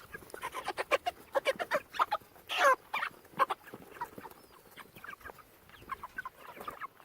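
Pastured meat chickens cluck and chatter nearby in a busy run of short, irregular calls, moderately loud with no talking over them.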